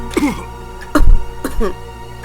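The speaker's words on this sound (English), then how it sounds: "In his excitement, he started coughing." A character in the Death Mark horror visual novel coughs in a few short, harsh bursts, close and fairly loud, with brief pauses between them.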